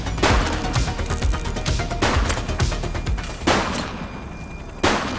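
Loud bursts of gunfire in a police shootout from the game The Precinct, several rapid volleys separated by brief pauses, close and harsh, with a final burst at the end.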